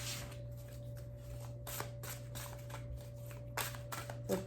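Tarot cards are shuffled by hand in quick repeated riffling bursts, crisp papery flutters close to the listener in a quiet room with a faint background hum.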